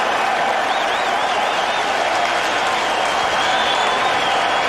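Rugby stadium crowd at a Super 12 match cheering and applauding for Waratahs player Matt Dunning, a dense, steady roar of clapping and voices filling the whole stretch with a few whistles rising above it.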